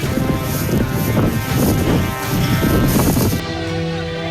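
Strong wind roars and buffets loudly and continuously during a spreading forest fire near Mount Bromo in Probolinggo, East Java, with gusty surges throughout.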